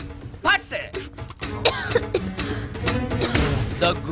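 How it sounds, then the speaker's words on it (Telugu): Coughs and throat clearing from a person in a comic film scene, several short bursts scattered through the clip amid other voices and background sound. "దగ్గు వినిపించింది"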